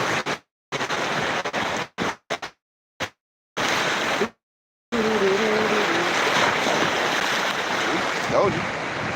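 Water waves wash and churn continuously in a broad, rushing surge, interrupted by several abrupt dropouts early on and then running steadily, with a brief tonal squeak partway through.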